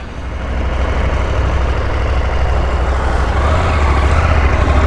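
A KTM 890 Adventure R motorcycle engine idles while warming up, a steady, close, loud low rumble holding evenly throughout with no talk over it.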